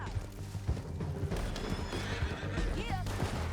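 Horses whinny and gallop in Red Dead Redemption 2, rapid hoofbeats pounding beneath shrill neighs that rise and fall, with voices talking in the background during the ride.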